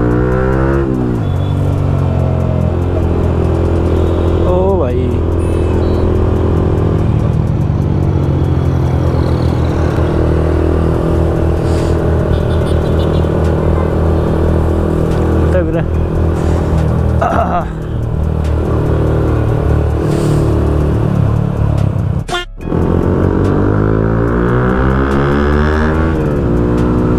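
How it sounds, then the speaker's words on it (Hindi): Loud, sustained engine roar of motorcycles revving, with rising and falling harmonic sweeps throughout, a brief dip near the end, and voices mixed in. "देख रहे हो दोनों बाइक की आवाज"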